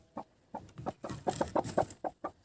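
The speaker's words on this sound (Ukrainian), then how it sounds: "Вона відчує зараз під собою яйця, і якщо вона адекватна, нормальна квочка, то вона спокійно сядеться." A broody hen settling onto a clutch of turkey eggs gives a series of soft, close clucks and low murmuring calls in an uneven rhythm, with no voices.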